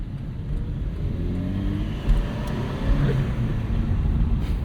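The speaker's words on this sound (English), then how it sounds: "Glorious turbo noise." A 2009 Chevrolet Cobalt SS turbo engine on the move, a steady low drone with rising tones as it pulls, heard from inside the car with small surges in loudness and no talking.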